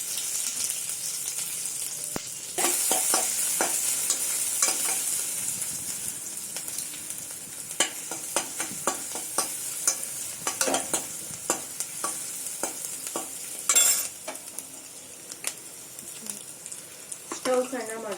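Mustard seeds, curry leaves and onion frying in hot oil for a tempering, a steady sizzle broken by many sharp crackles and pops from spluttering seeds, with occasional stirring scrapes close by.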